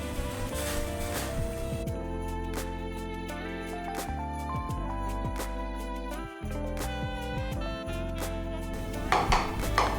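Metal utensil scraping and clinking against a pan as rice flour is stirred into boiling salted water with ghee, steady busy clatter continuing without pause.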